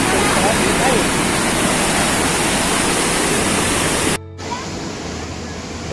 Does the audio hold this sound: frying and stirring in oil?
no